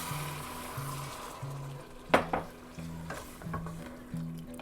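A spoon scrapes the bottom of a pot of jambalaya with chicken broth in a few short, scattered strokes, faint over a soft simmer and a low steady hum.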